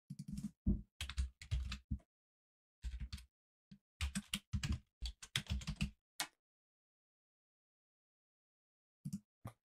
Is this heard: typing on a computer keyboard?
yes